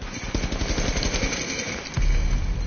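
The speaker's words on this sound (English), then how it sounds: "Now stop shooting and wasting your ammo, sir." Rapid video game gunfire, a fast rattling stream of shots that runs throughout, followed by a heavier low-pitched blast near the end, with no speech.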